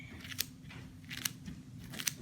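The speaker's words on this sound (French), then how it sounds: "je vais couper la salade avec des ciseaux" Scissors snip through salad lettuce leaves in three crisp, evenly spaced cuts, each a short bright crunch close to the microphone, over a quiet background.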